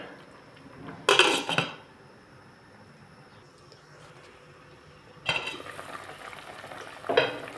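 A lid clatters onto a cooking pot of salmon soup in two clear bursts of metallic rattling, with a quieter clink near the end over a low background simmer.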